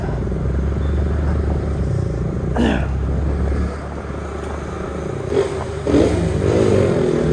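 A motorcycle engine drones steadily while riding, a close, continuous rumble with wind buffeting and a few brief bumps and rattles, no talk.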